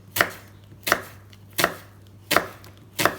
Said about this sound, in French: On va commencer par tailler les oignons.